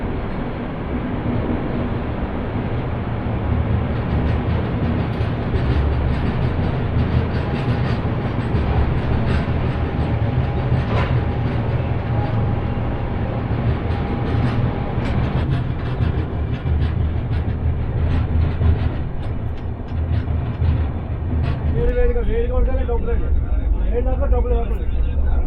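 A Tirumala Express train, number 18522, runs on the rails between Guntakal and Visakhapatnam, giving a steady loud rumble through the whole stretch, with people talking throughout.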